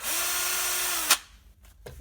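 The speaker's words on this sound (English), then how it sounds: "I'm just going to drill this hole, so this is all the way through" Ryobi 18V right angle drill boring a hole through wood: a steady whirring motor run for about a second that stops abruptly with a clunk, followed by a few faint handling knocks.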